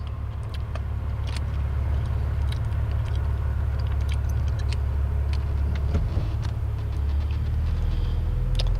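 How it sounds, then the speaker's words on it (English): Vehicles passing on Route 132, a rural eastbound road, heard as a continuous close road rumble with a passing swell near the middle, loud and steady with no talk. "Let some vehicles by."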